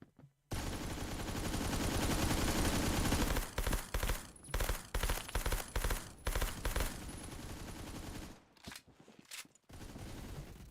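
Gunfire in the video game Phantom Forces, loud continuous firing at first, then breaking into rapid bursts with short gaps and a final spaced-out volley.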